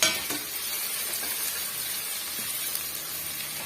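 Ginger garlic paste sautés in a pan, a continuous loud sizzle and hiss with occasional light scrapes of stirring, close and steady throughout, with no speech.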